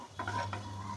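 Kadhi mixture with turmeric is stirred in a pan, a brief close scrape of spoon against metal over a low steady hum.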